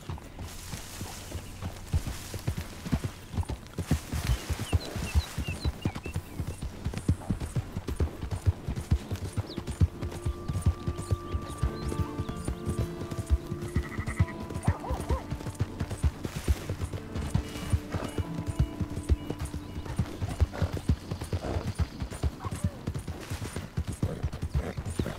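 Horse hooves galloping in the Red Dead Redemption II video game: a steady, rapid clip-clop runs close and clear for the whole stretch, layered over game ambience and small mechanical creaks, with no one talking.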